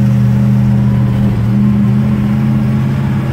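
A 1973 Dodge Dart engine drones loudly and continuously close by, held at a high, steady rev with a slight shift in pitch midway and no voices over it.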